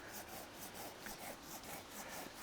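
A Tolsen garden hand saw cuts through a raw pear-wood trunk about 5 cm thick, making rapid, even rasping strokes that repeat steadily at close range with no talk.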